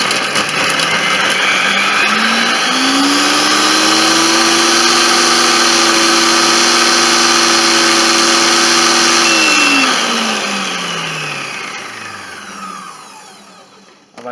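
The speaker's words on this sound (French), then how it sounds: "on va mixer 10 minutes à la vitesse maximum, donc vitesse 10" A food processor runs at top speed slicing an onion, its motor winding up, holding a loud, steady high whir for several seconds, then spinning down and fading to quiet.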